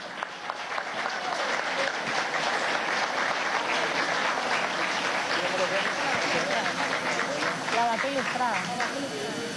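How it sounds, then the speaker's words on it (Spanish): Sustained applause from a crowd honours award winners at the closing of a book fair, with dense clapping throughout and a voice speaking over it. "un aplauso para los ganadores de las menciones"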